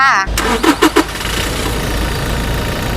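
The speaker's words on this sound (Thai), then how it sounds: "เครื่องเดิมๆฟิตๆไม่รั่วไม่ซึมสตาร์ทติดง่ายนะคะ เดี๋ยวเราไปฟังเสียงกันเลยค่ะ" A 2019 Toyota Hilux Revo 2.4 pickup truck engine cranks and catches, then settles into a steady, rumbling idle, close by.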